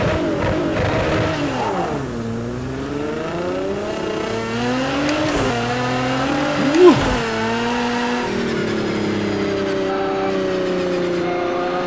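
A Nissan GTR GT3 race car engine in Project CARS 2, revving up through the gears with rising and falling pitch sweeps. It stays close and loud throughout, with a brief spike near the middle.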